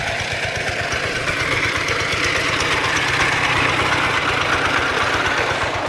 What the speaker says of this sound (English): I don't know what they're pile driving here.